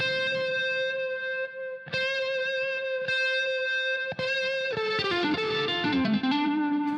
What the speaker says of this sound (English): Adding the delay, adding the reverb, and then putting the univibe in the beginning